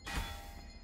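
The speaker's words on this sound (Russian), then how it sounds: "Это он звонит в колокола." One low, heavy bell strike in the video game Blasphemous that rings out and fades quickly, heard alone.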